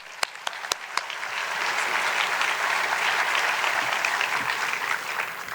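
An audience at a film festival awards evening breaks into sustained applause to welcome the host, a dense steady wash of clapping that builds and holds, with a few sharp individual claps at the start.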